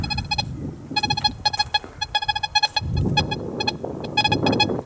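A Golden Ace metal detector gives repeated electronic signal tones over a buried coin, short bright beeps in bursts and a longer sustained stretch, sounding fairly close over background hiss and rustle.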